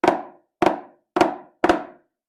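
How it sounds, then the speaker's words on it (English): Four drum flam strokes, evenly spaced, each a sharp crack that quickly dies away, played alone. "it's called the flam, and it's where one hand hits a little before"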